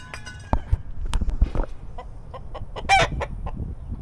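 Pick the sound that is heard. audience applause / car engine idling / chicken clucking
chicken clucking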